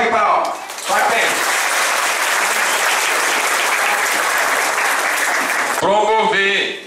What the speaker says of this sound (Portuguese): Declaro empossado a diretoria deste sindicato. Uma salva de palmas.